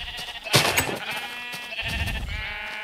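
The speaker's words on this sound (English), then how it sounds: "Sheep." A sheep in the Minecraft video game bleats, a clear, wavering harmonic baa heard twice, the second call lower and longer, with soft game background and no talk over it.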